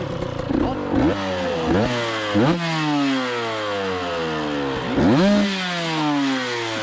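KTM 125 SX two-stroke dirt bike engine runs nearby, revved in repeated sharp blips that rise and fall over a buzzing idle, with brief talk underneath.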